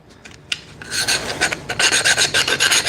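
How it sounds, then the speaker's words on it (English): Hand file cleaning up a cut edge after a bandsaw cut, a few scattered scrapes followed by rapid repeated rasping strokes, close and loud. "You're gonna have to come back with your file though and do some cleanup."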